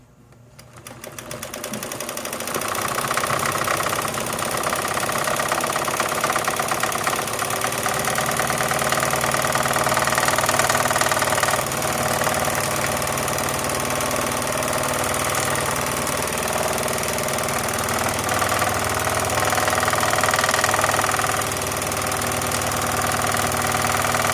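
A Necchi or Elna sewing machine with a monograph device stitches embroidery at medium-high speed. The rapid mechanical chatter is loud and continuous for over twenty seconds after a brief start-up, with no voices.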